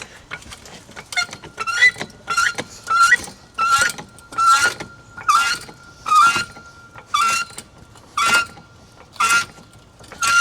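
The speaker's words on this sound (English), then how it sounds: "So now I'm just gonna lift up the car." A car jack ratchets up under a Nissan Silvia S15 in rhythmic strokes, around a dozen evenly spaced metallic clicking bursts, close and fairly loud.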